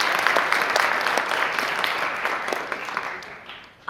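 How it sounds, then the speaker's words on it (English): Sustained applause from an audience greeting new citizens at a university naturalization ceremony, a steady wash of many hands clapping that thins toward the end. "Can we applaud them, please?"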